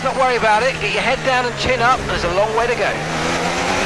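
F1 race cars in the video game F1 26, with a McLaren closing in, drone and rev steadily beneath continuous excited commentary.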